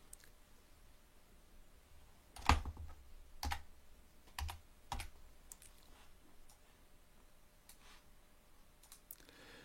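Keys on a computer keyboard clack in a few separate bursts, a handful of clear presses with pauses between, close and fairly quiet against a faint hiss.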